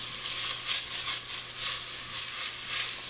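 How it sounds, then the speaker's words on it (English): Onions and garlic frying in a pan, a steady close sizzle with soft crackling that swells in regular pulses as the pan is stirred, with no voices. "So I'm going to let this fry up here for about 5 minutes or just until the onions start to get translucent"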